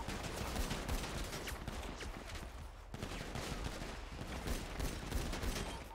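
A faint, continuous rattle of gunfire from a GTA roleplay shootout, dense rapid shots running unbroken for several seconds with no clear talk over it.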